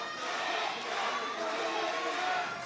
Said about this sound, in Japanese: またも両者への声援交錯している